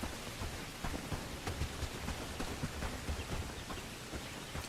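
Steady rain falls in the video game Bellwright, a dense, even hiss of drops spread across the whole moment, soft and continuous with no voices.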